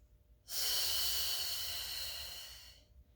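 One long, steady exhaled breath during a Pilates mat exercise, close and airy, lasting about two seconds before fading, with no talk.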